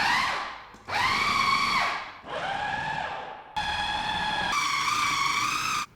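Food processor pulsing cookie dough ingredients with ground ginger, cloves and cinnamon, the motor whirring in several loud bursts of a second or two each, with short pauses between pulses.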